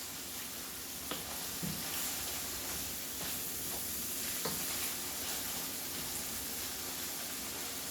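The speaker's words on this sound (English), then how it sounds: "you're just going to just let this cook all together" Chopped cheese, beef and onions, cooking together on a griddle, with a steady close sizzle and hiss, a few scraping taps from a utensil, and no talking.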